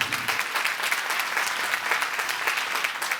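A church congregation claps together during a Sunday service, a continuous wash of hand claps at a moderate, fairly distant level with no break.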